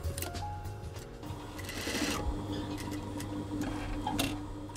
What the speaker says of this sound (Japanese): 糸が決まったら早速ミシン掛けをしていく